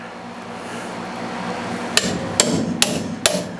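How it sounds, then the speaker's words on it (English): Four sharp metallic hammer strikes on a manual impact driver ring out at an even pace after a stretch of low background hum, freeing a stuck screw on a Sheldon lathe. "stick it down in your screw or whatever it is that you're trying to break free, and you use a hammer"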